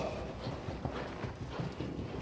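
Horse hooves beat out a steady three-beat canter in a riding arena, soft thudding clip-clops repeating close by over a faint background.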